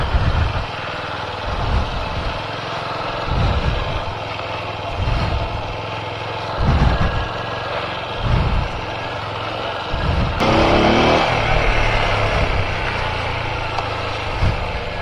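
A motorbike rides a rough, potholed mountain road in North Sikkim between Mangan and Lachen. The engine drones steadily, with repeated low thumps from bumps and a burst of wind noise partway through. No one speaks.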